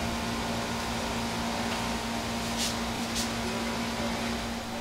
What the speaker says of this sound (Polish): To, co słychać w tle, to szum klimatyzacji.